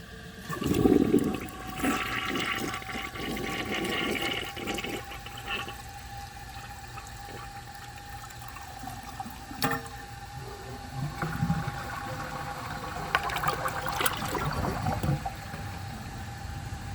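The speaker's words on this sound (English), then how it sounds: "I'll give it another flush and see if that takes it through" A 1981 Briggs Conserver toilet flushes with a loud initial gush, then a long swirling drain and gurgle, followed by a second surge of running water near the end.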